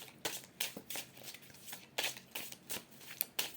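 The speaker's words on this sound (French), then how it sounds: "je voulais prendre une autre carte avec l'oracle" Oracle cards being shuffled by hand nearby: a quick, uneven run of crisp papery flicks and slaps with short gaps between bursts.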